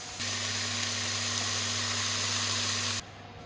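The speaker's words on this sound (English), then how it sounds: "So I'm going to chuck in some bacon lardons now as well and fry those up." Bacon lardons fry in a pan with a steady, even sizzle and hiss that runs for about three seconds and then stops abruptly, with no talking over it.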